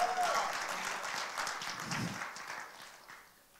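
A church congregation claps together in a short burst of applause that gradually fades away.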